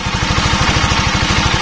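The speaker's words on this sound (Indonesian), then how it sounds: "Ini suara kondisi motor langsam" A Honda CBR150 motorcycle engine idles steadily up close, a low, even chugging pulse with no talk over it. The regulator-rectifier is overheating and the battery keeps failing.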